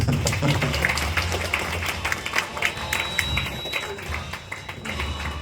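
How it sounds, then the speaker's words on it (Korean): Audience at an award ceremony during the Goseong Asia Night event breaks into dense, steady clapping that fills the whole stretch, fairly close and even in loudness. "여러분 박수 주세요"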